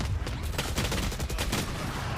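Rapid gunfire in a Valorant pro match between G2 and LEV, a dense stream of quick shots rattling steadily through the whole stretch with no talk over it.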